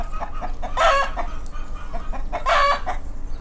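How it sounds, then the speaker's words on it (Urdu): A rooster crows twice, each call loud and ringing, with a quiet outdoor background between the two. "مرغے ککڑاتی ہے،"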